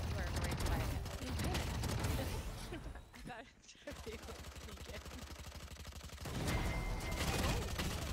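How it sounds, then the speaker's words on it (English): Video game gunfire with rapid bursts of shots and mechanical clatter, continuous and fairly loud, with a brief lull in the middle, under faint background sounds. "Yeah, don't worry about the gunfire."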